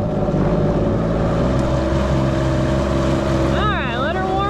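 A Yamaha Superjet stand-up jet ski idles on the water while warming up, its engine a steady, close drone, and a brief whistling tone rises and falls near the end.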